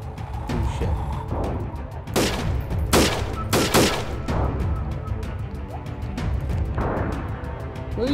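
A gunfire exchange in the guerrilla warfare game Freeman: Guerrilla Warfare, with sharp loud shots cracking over a steady rumble of battle noise, several bursts clustered in the middle.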